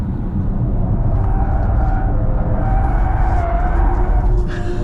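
Kia EV6 GT electric car accelerating hard down a track straightaway, heard from inside as a loud, steady low rumble of road and wind noise with a faint rising whine, with no talking.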